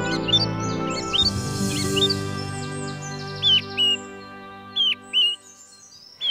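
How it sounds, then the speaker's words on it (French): A song thrush singing in a Paris green space, with repeated short whistled and chirped phrases that rise and fall. Several distinct phrases stand out clearly over a steady background hum, with no talk. "c'est certainement une grive musicienne."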